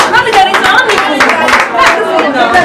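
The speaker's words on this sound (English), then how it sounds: "a hand of applause for yourself." Hands clapping together at a birthday party in Lyon, a quick uneven patter of several people clapping close by, with voices and chatter mixed in underneath.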